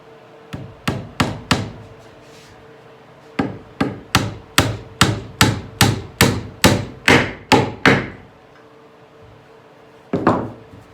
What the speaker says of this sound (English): put a small nail on one side of this dovetail just to kind of drive it over and push